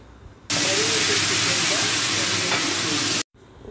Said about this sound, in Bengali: গ্যাসের ফ্লেম কমিয়ে বাড়িয়ে চিকেনটা ফ্রাই করে নেব